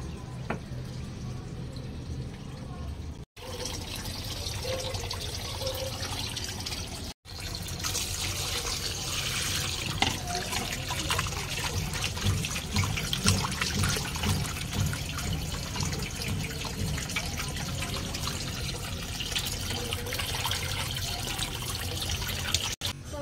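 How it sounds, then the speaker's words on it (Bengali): Raw rohu fish washed in a sink under a running tap, a continuous close rush of water with splashing and handling noises throughout, broken by two brief cuts. "আর এখন আমি মাছগুলোকে ধুয়ে নেব।"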